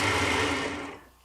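A homemade wood strip sander hums as its motor runs with a slight vibration, a steady close mechanical whir that winds down and fades toward the end.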